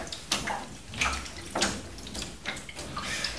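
A photographic print slides into a darkroom developer tray and is agitated, giving several soft close splashes and sloshes of liquid in quick succession.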